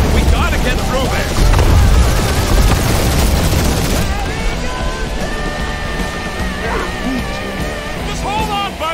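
Turrets fire in Marvel's Guardians of the Galaxy, loud and dense, with booming bursts packed into the first few seconds. The barrage then thins under tonal game sounds and music.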